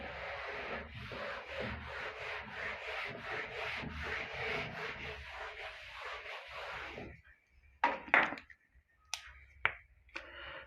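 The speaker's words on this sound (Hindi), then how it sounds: "तो सबसे पहले तो इसको रब कर देता हूं मैं कंप्लीट" Writing rubbed off a board during a maths lesson, a steady scratchy scrubbing for several seconds, then a few separate sharp knocks and scrapes.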